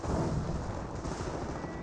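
Gunfire and artillery rumble in a Company of Heroes 1 World War II battle, a continuous dense mix of shots and booms at moderate loudness with no clear gaps.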